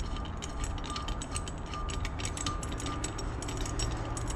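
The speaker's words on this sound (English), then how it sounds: "So the wrench goes down inside of here, goes down on the plug, and then I guess you just screw it out." Spark plug being unscrewed with a wrench on a 2001 Yamaha YZ426F motorcycle: steady close-up ratcheting and mechanical clicking under a constant background hum, with no talking.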